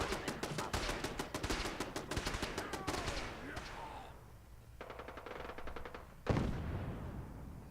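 Rapid video game gunfire crackles in dense bursts for the first few seconds, then thins out to a few scattered shots and a closer blast near the end, with a voice speaking briefly over the action.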